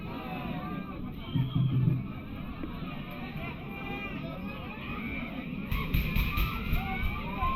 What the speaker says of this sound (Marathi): गर्दी पा